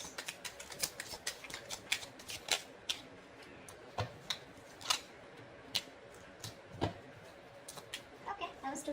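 Tarot cards are shuffled and handled up close, giving a steady series of sharp, papery snaps and flicks, quiet overall, with a voice speaking in places.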